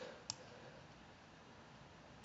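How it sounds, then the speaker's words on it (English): Two faint, crisp computer mouse clicks, one near the start and one at the end, stand out over a quiet steady background hiss. "There's a lot of clicking and dragging with this tutorial."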